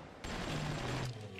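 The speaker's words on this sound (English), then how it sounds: "so machine gun" Machine gun fire in the BioShock video game rips out as one quiet, roughly second-long burst of rapid shots, with softer game ambience before and after it.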